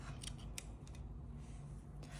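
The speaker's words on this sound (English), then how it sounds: "once you're hidden all of your tails, you can cut those off" Scissors snip off crochet yarn tails, faint quick clicks of the blades over a soft background hiss, close up with no talking.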